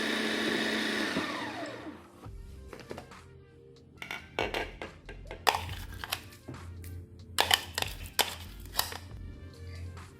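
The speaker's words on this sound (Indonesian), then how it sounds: "Nah, ini aku cincang kasar aja sebentar aja" A knife roughly chops peeled shrimp on a board while taro rolls are being prepared. Quick, close knocks come in uneven bursts after a fading whir at the start.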